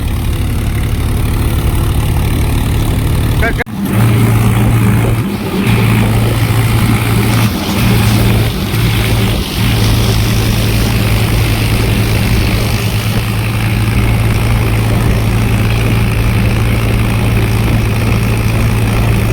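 Three tractors hauling onions to Mahuva rumble on a road near a toll plaza, making a loud, steady engine drone with a few brief dips, up close and with no voices.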